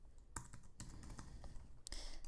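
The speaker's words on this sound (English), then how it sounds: "type in a password." Keys clatter on a computer keyboard while a password is entered during server setup, a quick close run of light clicks with a couple of sharper taps.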